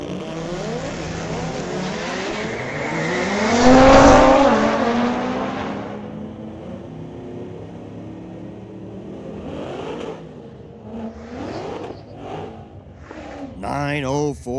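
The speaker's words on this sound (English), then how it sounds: "Here comes that quick Audi. Pair of Audis, both from 2018." A pair of 2018 Audis launch down a drag strip, engines roaring and revving loudly as they pass and peak in the middle, then fading into the distance with a public-address announcer talking throughout.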